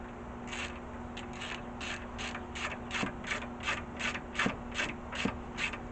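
A bolt being turned to clean its threads on a 1994 front brake job gives a quiet, repeated metallic ratcheting and scraping, about a dozen evenly spaced strokes close by, with no talking.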